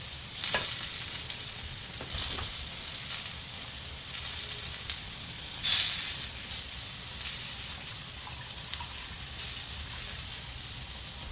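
Beef shank sizzles steadily in a hot pan for a roast, a constant crackling hiss with scattered sharper pops and spits, close and fairly quiet, with no voices.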